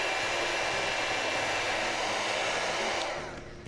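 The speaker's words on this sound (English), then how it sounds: "melt the raised surface a little bit with a heat tool, and then add an embossing powder of your choice to alter the color" A heat tool blows hot air over raised embossed paper, a loud, steady whooshing hiss that holds for several seconds before tapering off as the tool is switched off.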